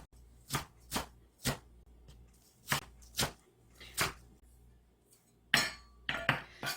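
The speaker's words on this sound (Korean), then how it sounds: "종종종 썰어 줄게요." A kitchen knife chops wild chives (dallae) on a cutting board with sharp, evenly spaced knocks, about ten distinct hits, close and clear with quiet gaps between.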